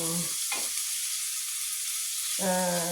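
Mussels with seaweed sautéing among translucent onions give a steady, even sizzle throughout, while a voice speaks briefly at the start and again near the end.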